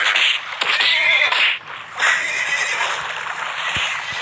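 A horse in a video game gives a loud, close whinny with a shrill, wavering high pitch, pausing briefly before a second, longer whinny trails off.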